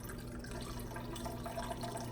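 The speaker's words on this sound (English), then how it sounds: "I'm going to take and pour my water in" Water being poured into a container sitting on a kitchen scale while making olive oil milk castile soap, a short, steady splashing trickle heard up close with no talking.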